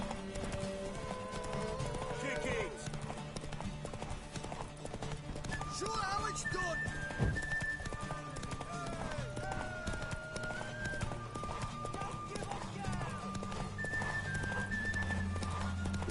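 A horse gallops across the landscape of The Witcher 3 with rapid, rhythmic hoofbeats, set against game music and voices talking throughout.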